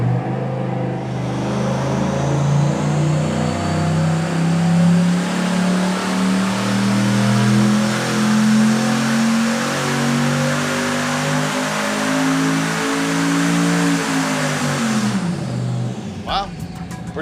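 A turbocharged LS engine on a dyno, fitted with an Air Raid oiled element filter, holds a loud, sustained pull that climbs steadily for about fifteen seconds before dropping off sharply into quiet.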